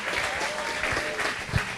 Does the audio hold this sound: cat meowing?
no